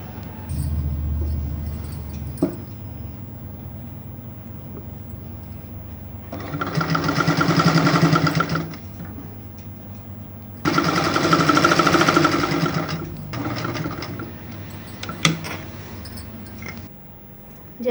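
Sewing machine stitching a collar on a kurti, two loud bursts of rapid stitching separated by quiet pauses with faint handling clicks and a low hum.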